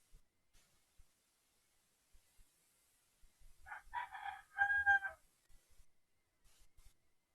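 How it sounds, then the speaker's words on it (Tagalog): A rooster crows once at moderate distance, a drawn-out harmonic call with a few shorter clucks or squawks around it, then quiet room background. "Sa mga manok."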